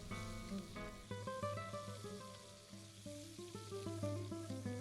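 Finely chopped onion and green pepper, with garlic, frying in a pan for a Navarra-style lamb stew, a steady low sizzle running beneath loud melodic music.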